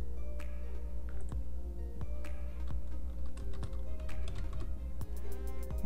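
Rapid keystrokes clatter on a computer keyboard while a shutdown command is entered in Windows, crisp close clicks over a steady low hum.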